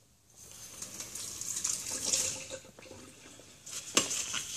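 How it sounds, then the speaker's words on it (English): Water rinses weld-cleaning residue off a metal weld, a steady hiss of running water that swells and fades with brief splashy bursts, heard up close with no talking. "So I'll just wash that off and we'll start again."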